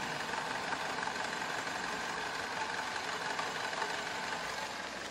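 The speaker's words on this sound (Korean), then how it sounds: "바로 엔진 소리 한번 들려드릴게요" A car engine idles steadily, a continuous low hum with a slight mechanical rattle, close by and unchanging throughout.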